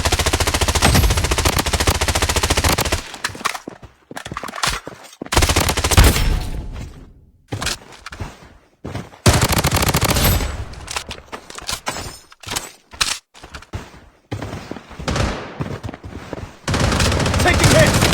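Loud automatic bursts from MCX and MP5 guns in the shooter game BloodStrike come in long rapid volleys separated by short quiet gaps.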